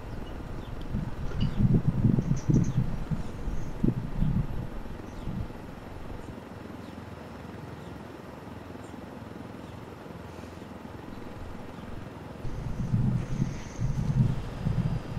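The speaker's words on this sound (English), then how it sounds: "This is a giant ass helicopter." A large helicopter in the video game Ghost Recon Wildlands drones with low rotor-like whirring under wind noise, swelling loud at the start and end and dipping quieter in between, with no voices.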